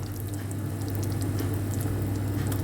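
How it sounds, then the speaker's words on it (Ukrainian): Meat simmering in broth in a pot: steady bubbling, a soft continuous patter with faint drips, close and moderately quiet. "І ось так кипить наше м'яско."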